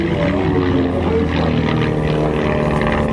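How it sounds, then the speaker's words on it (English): Propeller-driven RV-7 and RV-8 airplanes in an airshow tail chase, a steady, loud engine drone with a droning propeller hum that holds evenly throughout, with no voices over it. "Todd Rudberg in the white and orange aircraft is locked onto the tail of Stephen in the red and white airplane"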